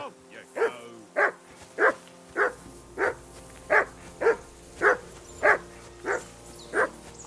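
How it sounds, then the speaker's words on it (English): A dog barks steadily in Kingdom Come Deliverance 2, about a dozen evenly spaced barks, mid-distance and fairly loud over a low ambient bed. "I assume you can hear that damn dog of yours barking."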